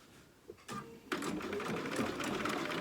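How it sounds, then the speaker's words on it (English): A home sewing machine basting a folded raw edge in place on a fabric dog costume, the motor starting in short bursts and then running in a fast, steady stitching whirr, close and loud. "I'm just going to baste that on in place there"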